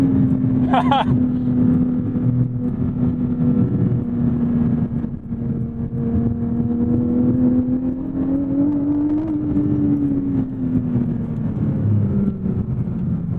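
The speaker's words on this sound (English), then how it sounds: "Open up the Porsche Sport exhaust for you." A 2024 Porsche 718 Boxster GTS 4.0 engine drones at steady high revs with its sport exhaust open, a loud, raspy note rising slightly near the end, close to the microphone.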